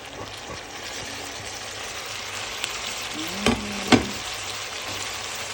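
Tomatoes fry in butter in a pan, giving a steady soft sizzle with a couple of brief clatters of a utensil against the cookware near the end.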